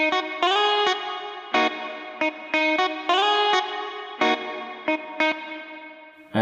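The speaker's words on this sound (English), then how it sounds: "so we have a longer reverb." An electric guitar played in Ableton rings out in a series of plucked notes and chords, each softened by chorus and trailing off in a long reverb tail, sounding clean and alone.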